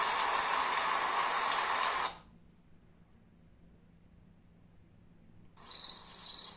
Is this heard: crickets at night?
yes